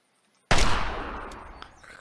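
A single loud, close assault rifle shot in the zombie survival game Unturned, a sharp blast after a moment of silence that rings out and decays over a second and a half.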